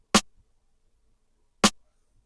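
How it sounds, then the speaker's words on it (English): Two sharp, punchy boom bap snare hits processed in FL Studio, spaced about a second and a half apart, each a crisp burst with a quick decay into silence. "So the snare now sounds like this."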